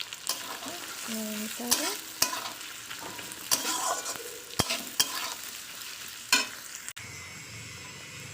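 Onions fry and sizzle in a pan while being stirred, with a steady hiss and repeated scraping strokes of the spoon, loud and close, and a brief spoken line near the start.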